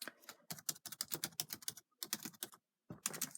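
Fast, irregular typing on a Dell Inspiron E1705 laptop keyboard, entering a password during a Linux Mint install; close, crisp key clicks in quick bursts with a couple of short pauses.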